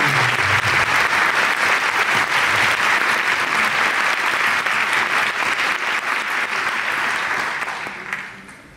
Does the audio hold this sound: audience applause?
yes